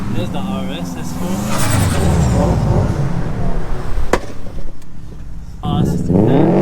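An Audi RS S4 revs loudly at a busy car meet, the engine roaring and dropping off with a sharp crack, while voices and crowd noise carry underneath.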